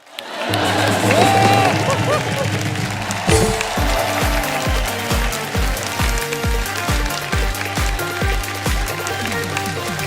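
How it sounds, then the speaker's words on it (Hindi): A studio audience at a comedy show applauding loudly, a dense steady wash of clapping and crowd noise lasting throughout, with a rhythmic music beat underneath. "जोर जोर से तालियां बजाएं"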